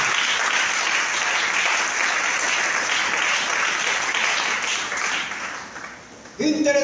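A church congregation applauds in steady, dense clapping that fills the space, thinning out near the end as a voice begins to speak.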